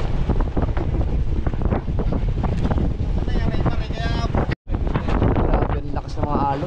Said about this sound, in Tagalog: Grabe ang lakas ng mga alon.